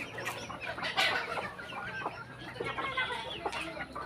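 Chickens cluck steadily through feeding time, a dense close flock of hens and fowl giving overlapping clucks and short squawks with no pauses.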